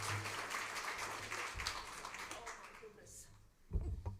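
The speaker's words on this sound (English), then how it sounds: "Please give her a big warm round of applause." A breakfast-event audience gives steady, fairly distant applause that fills the room for several seconds before tapering off, with some voices mixed in near the end.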